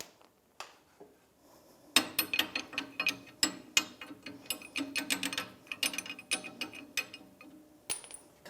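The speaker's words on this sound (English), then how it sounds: "I have a bushing puller in the end of the leaf spring, and I'm pulling that old bushing out" Bushing puller on a 1992-1996 Ford F-150 leaf spring draws out the old bushing, giving a loud run of sharp ratcheting clicks and metallic snaps in quick irregular bursts after a quieter start, close by with no talk.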